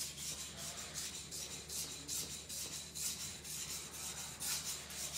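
Knife blade polished by hand, a steady run of close, rhythmic rasping strokes back and forth, about one every half second, with no talk.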